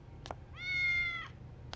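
A cat in the horror video game Fork Road gives one clear, drawn-out meow, framed by short clicks at the start and end, with no talking.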